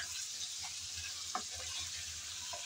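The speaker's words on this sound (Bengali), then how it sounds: "আমি এমনি প্রথমে পেঁয়াজের সাথে ভালো করে নেড়েচেড়ে চিকেন একটু ভেজে নেব।" Chicken pieces frying with onion in oil in a pan, a steady soft sizzle with occasional light stirring scrapes, close but fairly quiet, no voices.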